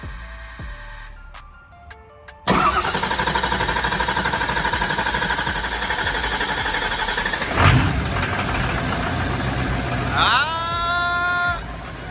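An abandoned Ford F550 truck, turbo spooling hard, cranks briefly amid faint clicks then catches and runs loud and steady, with a surge mid-way and a sweeping whistle-like rise toward the end.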